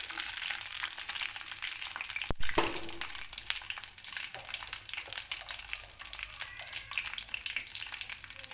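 Ginger garlic paste frying in a pan, a steady soft sizzle and crackle broken by one sharp clatter, fairly quiet and close, with no talking.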